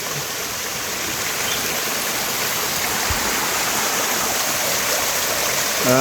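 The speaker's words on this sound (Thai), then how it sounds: "น้ำตกสวยจริงๆครับนี่ไหลลงมาพื้นที่ด้านล่างนะครับ" A small waterfall in Khlong Prap, Thailand: steady rushing water pours down over rocks, a constant dense roar that fills the whole stretch without a break.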